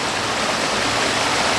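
A small creek flowing at a hiking trail crossing near Colchuck Lake, Leavenworth, Washington, a steady close rushing babble of water with no voices.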